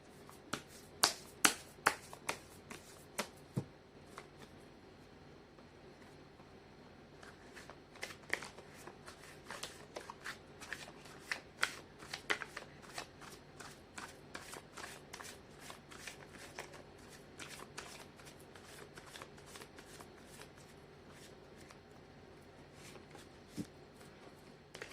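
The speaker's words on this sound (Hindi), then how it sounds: "कर लेती हूँ कार्ड की शफलिंग।" Tarot cards being shuffled in a Hindi reading, a long run of quick riffling and snapping card flicks, close and steady, with no talk over it.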